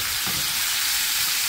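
Fresh tomatoes hit a hot pan with mackerel, giving a steady, close, dense sizzle and hiss that holds evenly throughout with no voices.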